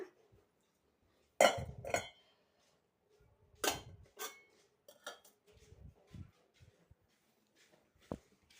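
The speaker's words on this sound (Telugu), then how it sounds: "గిన్నెలన్నీ ఇంకో షింక్లో మొత్తం తీసి" Dishes and pots clatter and clink in bursts as they are gathered and moved into a kitchen sink, with separate knocks and pauses between, fairly close and with no talk.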